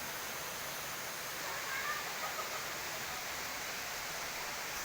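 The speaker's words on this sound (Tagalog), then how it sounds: "Andito kami sa sapa." Mountain stream flowing: a steady, soft wash of running water, even and continuous from start to finish, heard at a moderate distance with no clear voices over it.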